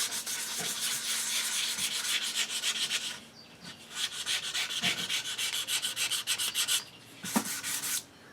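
A sanding block scrapes back and forth over the finish of an HW30 air rifle's wooden stock in steady close strokes, then pauses and resumes in shorter bursts.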